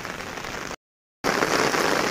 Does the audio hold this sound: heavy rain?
yes